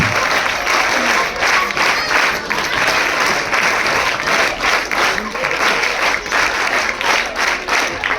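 An audience at a documentary inauguration claps loudly and continuously, and the applause swells in slight waves over several seconds.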